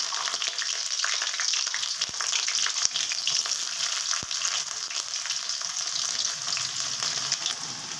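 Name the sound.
onion frying in oil with browned garlic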